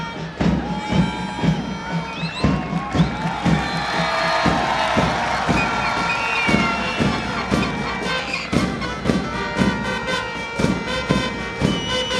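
Spectators at a football tournament clap and cheer in a continuous crowd roar, with loud, dense applause and scattered shouts and whoops throughout.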